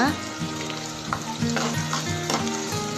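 Sliced onions fry in oil for a chicken 65 biryani while being stirred, giving a loud close sizzle with repeated scraping strokes of a spoon against the pan.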